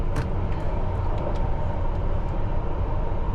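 A London Underground Piccadilly Line train pulls into Oakwood station, a loud, steady rumble of wheels and motors with sharp metallic clicks and squeaks scattered through it.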